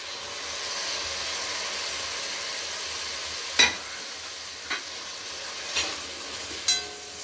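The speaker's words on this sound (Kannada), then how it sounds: "ಇದು ಚೆನ್ನಾಗಿ ಫ್ರೈ ಆಗಬೇಕು." Medium tomatoes frying in a pan for palak paneer: a steady bright sizzle and hiss runs throughout, broken by four or five sharp scraping stirs of a spoon against the pan, close and fairly quiet.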